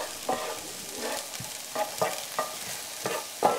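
Island style chicken cooking in a big skillet, soft frying sizzle under repeated stirring scrapes that come in short bursts about every half second, close and fairly quiet, with no talking.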